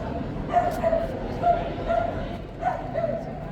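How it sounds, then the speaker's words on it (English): A dog gives a series of short, high whimpering yelps, about six in a row, fairly close, over a low background rumble. "That's why the dog is screaming."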